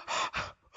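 A sharp gasp from a voice in a dramatic reading of a one-act play, one quick inhale followed by a second softer intake, close and alone.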